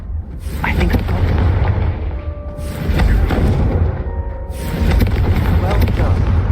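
Blasting spell explosions from the video game Hogwarts Legacy, heavy booming bursts recurring about three times over continuous rumbling game noise, with talk mixed in.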